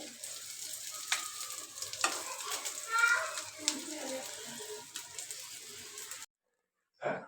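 Food sizzles and fries in a pan on a home stove while a spoon stirs it with occasional clinks and scrapes. Voices, including a child's, are heard faintly in the background, and the sound cuts out abruptly before a short final burst.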